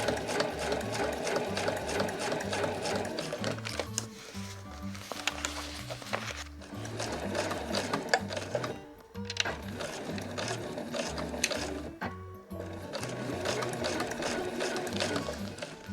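A domestic sewing machine runs a long basting stitch at maximum stitch length on a granny bag, its motor whirring steadily and loudly in close bursts with a few brief pauses, and no talk.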